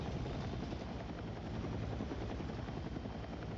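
Transport helicopter in a video game flying with a steady, continuous rotor thrum and engine drone, loud and constant throughout with no talking.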